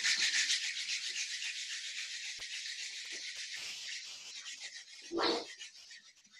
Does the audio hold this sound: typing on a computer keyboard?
no